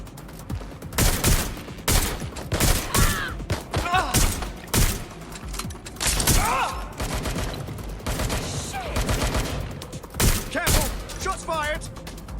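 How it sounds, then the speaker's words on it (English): Gunfire in the video game Watch Dogs Legion, repeated loud shots in irregular bursts and volleys, mixed with shouted voices and combat noise. "Shots fired!"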